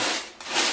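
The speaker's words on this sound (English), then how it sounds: "Now I don't want it to get too full because I do need to shake it later." Dry Chex mix is shaken in a roaster pan, giving two quick, close rustling swishes of cereal pieces sliding and rattling against the metal.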